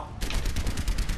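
Rapid automatic gunfire from the video game Overwatch, a dense burst of loud, close shots rattling continuously for about a second.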